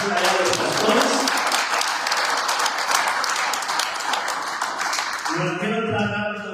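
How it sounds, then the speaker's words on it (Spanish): A church congregation in Puerto Vallarta applauds in a loud, sustained round of clapping that fades out near the end as a voice begins speaking. "denle un aplauso al Señor por la vida de los pastores"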